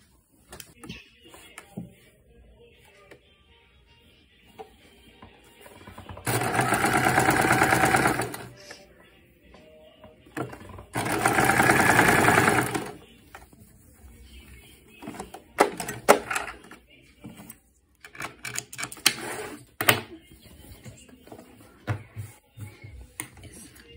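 An electric sewing machine stitching the princess-cut seams of a kurti runs in two steady whirring bursts of several seconds each, with fabric handling clicks and someone speaking between them.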